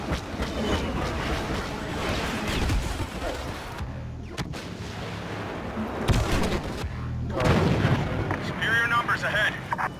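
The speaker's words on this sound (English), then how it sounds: "he's just sitting there shooting us as we walk in" Blaster fire and explosions from Star Wars Battlefront's Walker Assault on Jundland Wastes, with dense, rumbling volleys and bursts that drop out briefly before resuming, under talk from players.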